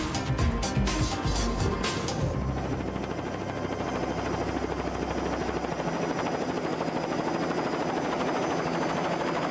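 A helicopter carrying a suspended platform for high-voltage power line repairmen, its rotor chop loud and close at first, then settling into a steady, dense engine and blade roar that continues throughout.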